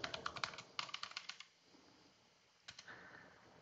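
Quick bursts of computer keyboard typing, close and crisp, come in two runs of rapid keystrokes, then a pause and a few more taps, with no voices.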